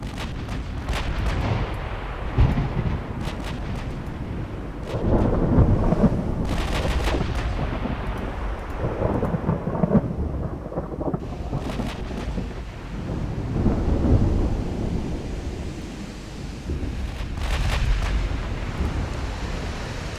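Warship main guns fire almost straight up in the naval game Ultimate Admiral Dreadnoughts, producing a series of heavy, rumbling booms at irregular intervals over a continuous low roar, some blasts overlapping and rolling away like distant thunder.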